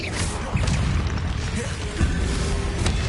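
A Confringo blasting spell explodes in a Harry Potter video game, giving loud, continuous booming bursts with sharp impacts near 0.5 and 2 seconds.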